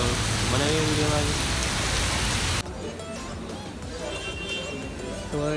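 Heavy rain hisses loudly, then abruptly drops to a softer, steady patter, with faint voices underneath.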